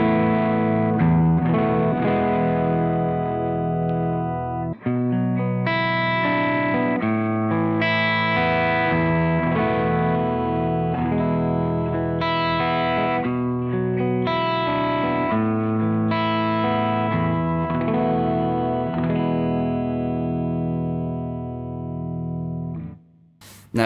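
Electric guitar played through a Soldano SLO 100 amplifier with the bright switch off, giving a warmer, less harsh top end; loud, sustained chords and ringing picked notes follow one after another for about twenty seconds, then cut off.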